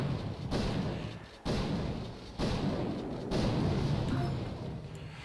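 In a video game, a super cannon fires four heavy booming blasts at regular intervals, each a deep thud trailing into a rumbling roar that fills the gaps between shots.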